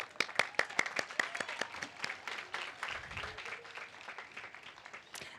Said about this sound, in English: So round of applause to all of you first.